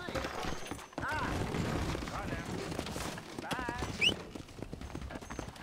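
Horse hooves clip-clop over ground in the Western video game Red Dead Redemption, with a whinny and distant gunfire, while someone talks over the game sounds.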